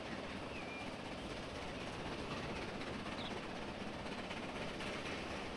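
A train runs along tracks near a station in the Transport Fever 2 video game, producing a steady, faint broadband rumble and hiss that stays even throughout with no distinct beats.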